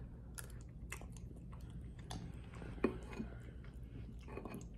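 Someone eats Quaker maple and brown sugar oatmeal from a bowl. Faint, close, soft moist chewing and mouth sounds continue steadily under a quiet room hiss, with no talking.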